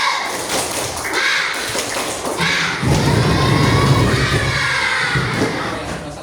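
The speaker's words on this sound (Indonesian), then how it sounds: "Kita tepuk semangat dulu biar lebih semangat." A classroom of children doing a rhythmic spirit-clapping chant, with loud thumping claps mixed with excited young voices shouting together, the group noise growing fuller and busier in the second half.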